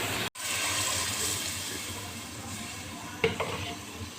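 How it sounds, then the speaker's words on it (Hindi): Water poured into a pot of fried masala for chicken kofta sets off a steady hiss and sizzle, with a brief clink of utensil partway through, close and moderately quiet. "अब ये पानी इसमें शामिल कर दिया।"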